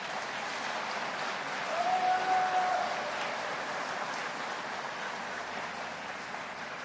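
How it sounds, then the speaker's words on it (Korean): An audience at a vision proclamation ceremony in a disused factory in Busan gives sustained applause, heard as a broad, even wash of clapping that swells slightly early on and then carries on at a moderate level. "큰 박수 한번 부탁드립니다"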